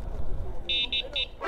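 A Kukirin G2 Master road-legal electric scooter horn gives three short, shrill beeps in quick succession, close by, over faint background rumble.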